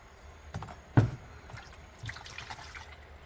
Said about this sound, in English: little bit of soapy water